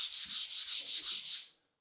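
Rhythmic scratchy swishes of a mouse sliding back and forth on a rough resin-coated Pelz mousepad, about eight strokes, close and steady, then a brief pause.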